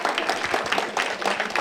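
A small audience gives a short round of clapping for members of a planning committee at an indoor event, with steady, continuous hand claps throughout.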